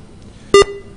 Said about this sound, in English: One more beep.